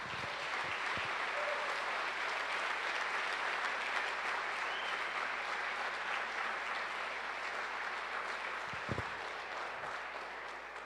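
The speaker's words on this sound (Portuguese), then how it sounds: "as palmas saudam o Senhor" Sustained applause from a church congregation during a Sunday service fills the space evenly, a dense wash of clapping that holds steady for about ten seconds with a few louder claps near the end.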